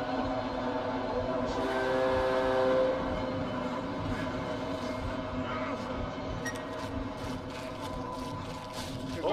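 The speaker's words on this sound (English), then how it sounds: "Train, watch out." A train rumbles past steadily and loudly in the horror video game Cry of Fear, with a sustained horn tone partway through and faint clanks near the end.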